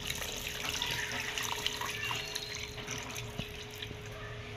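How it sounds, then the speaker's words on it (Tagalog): Water pouring from a tap into a pot of pork hocks with onion, garlic and peppercorns, a steady close splashing stream with light drips, no talking. "Lagyan po natin ng tubig."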